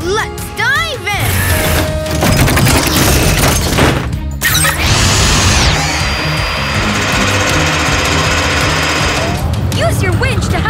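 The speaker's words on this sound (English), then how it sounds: "Now, Zuma, use the mini drill to make post holes." A cartoon puppy's mini drill boring post holes at a construction site, a dense, loud mechanical whirring and grinding laid under busy music and effects, with voices talking over it.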